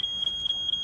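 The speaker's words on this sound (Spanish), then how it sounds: "Nos dicen que el detector de humo está..." A smoke detector in the Fireman Sam cartoon is tested, giving a piercing, high electronic alarm tone that repeats in quick bursts with brief breaks between them, loud and close with no speech.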